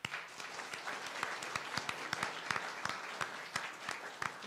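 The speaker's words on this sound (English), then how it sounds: "Let's give her a big round of applause" An audience at the Spelling Bee of Canada Championships applauds a contestant: a fairly soft, steady patter of many hands with sharper individual claps popping through, and no talking.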